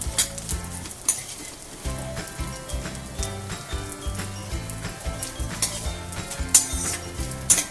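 Edible gum puffing up in a hot frying pan for mung bean ladoos, a steady crackling sizzle with occasional metallic scrapes and clinks of a utensil against the pan, close and fairly loud.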